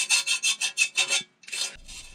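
A hand file rasps at holes in a metal step for a Fordson Major tractor front cowl, giving six even, loud back-and-forth strokes, then a brief pause and one more shorter stroke.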